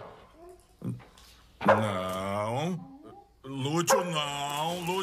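A dog in a comedy film barks and whimpers in short yelps and longer whining cries, loud and close, with people talking around it.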